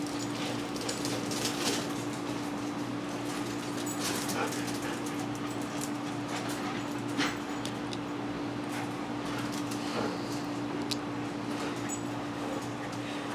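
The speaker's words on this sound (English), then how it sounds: "I got some dogs that are running around having a good old time right now" Several dogs running around indoors, whimpering and yipping in scattered bursts over a steady electrical hum, fairly distant and under constant background noise.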